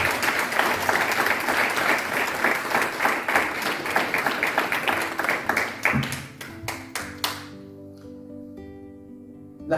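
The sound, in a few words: congregation applauding in church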